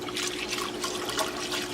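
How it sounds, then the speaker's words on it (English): Milk pours into a pot of roux for a garlic mac and cheese sauce, a steady soft liquid trickle and splash with gentle sloshing, fairly close and fairly quiet, with no voices. "Now take your milk and start pouring it in and whisking up that roux"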